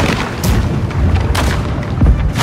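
Ship cannons fire in a video game naval battle, heavy booming blasts rolling one after another in a dense, loud barrage with no clear pauses.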